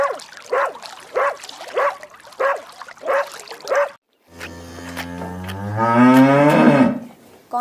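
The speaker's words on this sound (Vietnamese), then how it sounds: "Con bò." A cow moos twice: a series of short, repeated lowing calls, then a long, drawn-out rising moo. Both are close and loud, with a brief pause between them and no talking.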